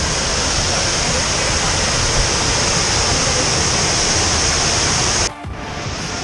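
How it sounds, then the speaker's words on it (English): Waterfall at Viento Fresco in Guanacaste, Costa Rica: a loud, steady roar of falling water fills the whole stretch, then drops off suddenly near the end as if cut or muffled. "we are approaching waterfall number"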